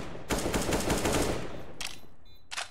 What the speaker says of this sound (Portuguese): Tô dando tiros de aviso aqui.